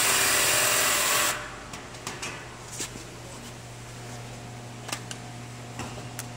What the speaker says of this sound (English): we will start off by drilling out the existing hole in the base using the 1/2 inch drill bit